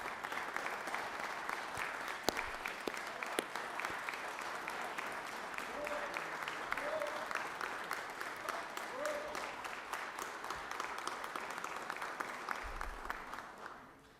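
Sustained round of applause fills a Georgia Senate chamber, steady dense clapping from many hands for about fourteen seconds before fading out at the end.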